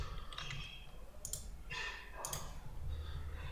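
A username and password are typed on a computer keyboard in short clusters of close, light key clicks with small pauses between them.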